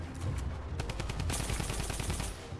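Gunfire in the video game Fortnite rattles in rapid automatic bursts, dense and continuous over a low rumble, with sharper shots packed tightly toward the end, heard alone without talk.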